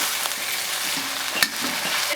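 Seasoned pork belly stir-fries in hot oil with a loud, steady sizzle, while a spatula now and then clinks and scrapes close by.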